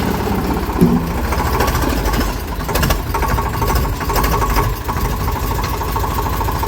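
A heavy tractor engine chugs steadily up close, a loud continuous diesel rumble with rhythmic knocking and occasional rattles.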